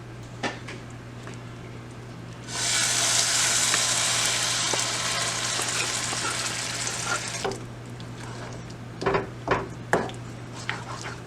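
Food frying in a little oil on medium heat, a sudden bright sizzle that starts when the food hits the pan, holds steady and close, then eases, with a few utensil clinks and scrapes at the end.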